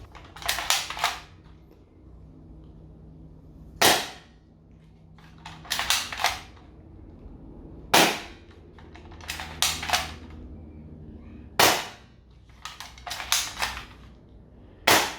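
Rifle shots fire in the Minecraft video game, sharp clicky reports in single shots and quick bursts of two to four, spaced irregularly over a quiet background.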